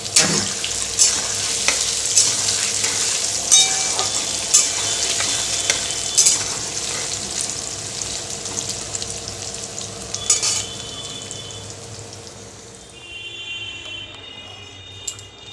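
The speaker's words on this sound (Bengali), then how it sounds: "আলুটা ভাজার সময় আমি একটু হলুদের গুঁড়ো দিয়ে দিলাম" Potatoes frying in oil in a wok with turmeric powder, a dense continuous hiss and sizzle with occasional scraping stir strokes, tapering off near the end.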